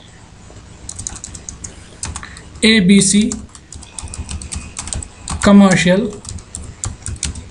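Rapid clicking of a computer keyboard as a name is typed, in quick bursts of keystrokes, with someone speaking over it at two points.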